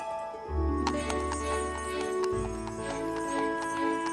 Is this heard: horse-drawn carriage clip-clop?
yes